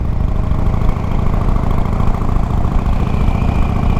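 A Big Dog Mastiff custom chopper motorcycle idles close by with a loud, steady, deep rumble that holds even for the whole stretch, with no voices over it.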